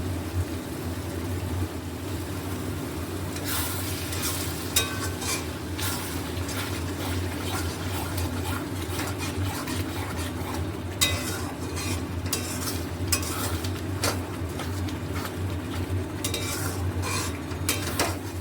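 Masala for chicken egg tadka stirred and fried in a pan, a steady sizzle throughout with repeated metallic scrapes and clinks of a spatula against the pan starting a few seconds in, close and fairly loud, no talk.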